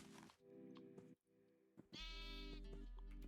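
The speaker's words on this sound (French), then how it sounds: "Mais c'est quoi ce bébé mouton?" Baby sheep in a video game bleating in several short, wavering calls, clear and close, with game ambience between and a low steady hum toward the end.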